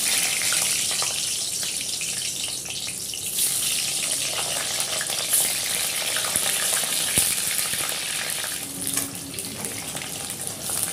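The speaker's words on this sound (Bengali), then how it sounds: "এবার আমি ডুমো করে রাখা সেদ্ধ আলুগুলো একটু লাল করে ভেজে নেব" Diced boiled potatoes fry in hot oil with a steady, bright sizzle that holds throughout, close by and without talk.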